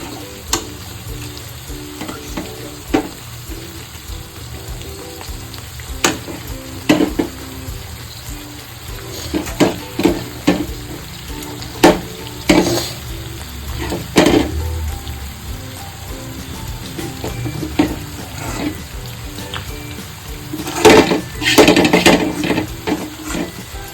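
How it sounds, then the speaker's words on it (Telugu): Gongura paste being stirred into chicken curry in a pan: steady close frying sizzle with repeated scraping and clacking strokes of a spoon, louder bursts near the end, no talk. "ఇప్పుడు మనం ఇది చికెన్లో మిక్స్ చేసుకొని బాగా కలుపుకోవాలి"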